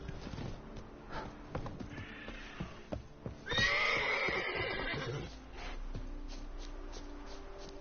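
A horse in the video game The Witcher 3: Blood and Wine gives a loud, drawn-out neigh midway, with soft hoof clops and snorts before it and quieter game ambience after.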